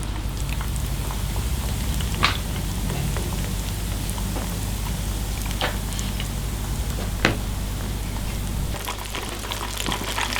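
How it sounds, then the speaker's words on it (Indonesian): Breaded chicken katsu fries in hot oil with a loud, steady, dense sizzle and crackle. A few sharper pops stand out, and no voices are heard. "Sekarang kita goreng chicken katsunya."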